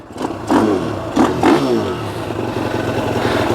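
A cold Ohvale GP-0 190 minimoto engine idles roughly, then gets blipped hard twice in quick succession, each rev rising sharply and falling back to a rattly, uneven idle, heard loud and close.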